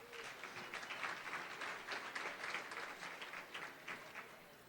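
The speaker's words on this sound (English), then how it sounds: "So let's give them a round of applause." An audience at a Fresno Unified event applauds its technology team, with distinct claps in an uneven, lively rhythm. The clapping sounds fairly distant and quiet, swelling slightly and then easing off toward the end.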